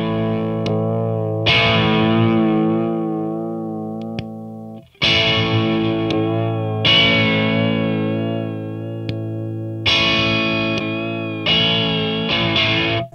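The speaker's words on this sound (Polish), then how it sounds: "Ten vibe, jak słyszycie, poza tym, że jest takim efektem troszeczkę tremolowatym" Electric guitar played through a CaLine Lucky 7 modulation pedal on its vibe setting, sustained chords given a wavering, tremolo-like pulse, played in several separate strummed phrases with short gaps between them.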